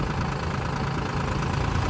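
A tractor badly stuck after an accident idles, its engine giving a loud, close, continuous low chugging drone with no pauses and no voices.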